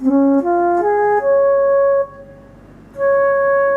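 A Casio CTK-7300 or CTK-6300 keyboard's Flute 2 tone plays a short stepwise melody of sustained pure notes, pausing briefly before one last held note; no voices.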